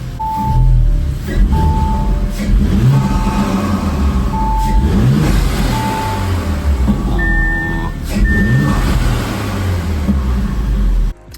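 An Audi B9 S4 engine idles steadily up close after a service and oil check, a continuous low rumble with a faint steady whine and a few brief high beeps over it.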